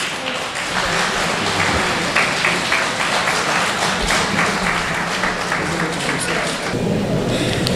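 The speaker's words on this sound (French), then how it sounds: "un standing ovation pour Aline Sis" Standing ovation at a general assembly of municipal treasury workers, a dense, continuous wash of clapping from a large crowd, steady and loud throughout with no pauses and some voices mixed in.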